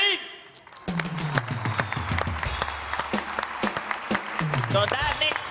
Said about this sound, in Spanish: démosle un aplauso a Dani Marín.